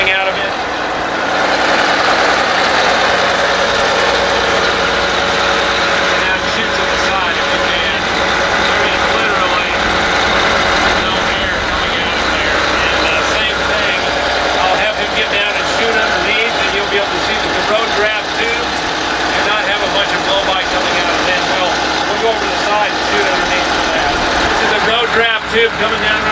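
A 1982 MCI MC9 bus engine idles steadily and loudly up close for the whole stretch, a constant mechanical drone with someone talking over it throughout.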